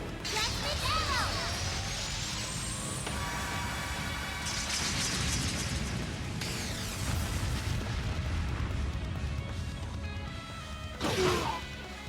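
The Judgment Arrow attack in the video game Trails of Cold Steel lands with dense, loud layered impacts, whooshing sweeps and crashing bursts, closing in a sharp final hit.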